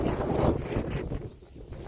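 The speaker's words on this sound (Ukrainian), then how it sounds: "У нас такий вітер зірвався" Strong wind buffets the microphone with low rumbling gusts, continuous and close, with no voices.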